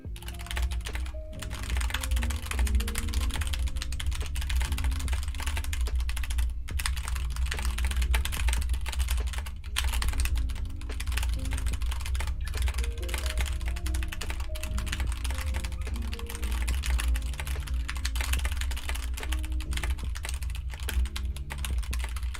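Rapid keyboard typing during a Nitro Type race, a typing video game, runs as a dense, continuous clatter of keystrokes with brief pauses, heard alongside background music.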